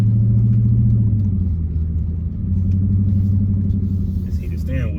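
A 2016 Dodge Challenger Hellcat with a mid-muffler delete idles close by, giving a deep, loping exhaust rumble that eases slightly partway through, with someone speaking over it.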